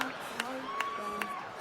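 A lone audience member claps at a stand-up comedy show, with a few sharp, evenly spaced claps rising over a murmuring crowd while a voice talks faintly underneath.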